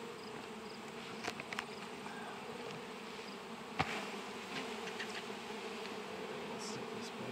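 Honey bees buzzing on a hive frame from an untreated hive, a soft continuous hum with a few individual bees droning close by, faint and steady throughout with no talking.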